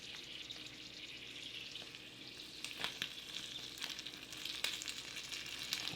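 Food frying in the flameless heater of a 2018 Russian 24-hour ration pack, with a steady sizzle and occasional sharp pops and sputters, close and continuous with no voices.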